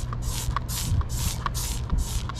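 Repeated bursts of a spray bottle hissing, about five quick sprays in a steady rhythm, close and fairly loud over a low background hum, as non-toxic cleaner is sprayed on bugs on an RV.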